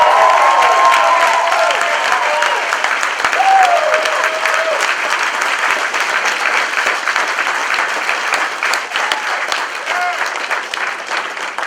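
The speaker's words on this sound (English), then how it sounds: "Give yourselves a round of applause." A large audience at a live motivational event bursts into applause, loud and dense at first with a few whoops and cheers rising over the clapping, then thinning gradually as the crowd settles.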